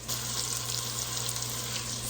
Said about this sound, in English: Sizzling away quite beautifully.